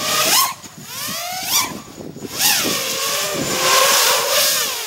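An OX FPV Acrolite 230 racing drone flying line of sight on a windy day, its motors whining loud and close, pitch sweeping up and down continuously as it throttles and maneuvers, with no talking.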